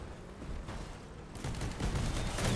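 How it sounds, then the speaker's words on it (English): Shotgun fire from a vehicle weapon in the combat car game Crossout, a string of rapid heavy blasts and crashing impacts growing louder over a continuous engine-like rumble, with no voices. "I can just shoot constantly."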